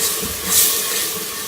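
Masala frying in a pan for a liver (kalaji) dish gives off a steady, close, loud hiss that swells briefly midway, with no talking.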